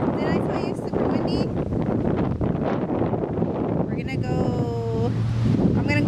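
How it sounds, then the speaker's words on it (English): Strong wind buffets the microphone outdoors, a loud, steady roar throughout, with a voice talking over it. "It is so windy."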